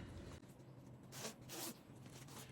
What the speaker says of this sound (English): and unzip both ends